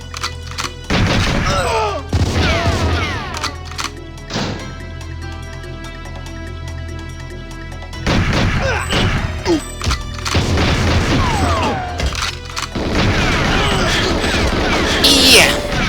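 Bursts of gunfire and impacts in GoldenEye 007 on the N64, inside narrow corridors under attack from several directions, coming in loud clustered volleys with short gaps under a steady game music bed.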